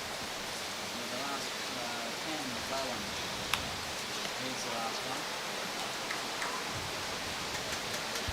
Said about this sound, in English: A lot of rain here at the moment at Helensvale.